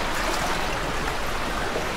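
Steady rushing of stream water flowing through a canyon, a continuous broadband wash that stays close and even from start to finish, with no voices over it.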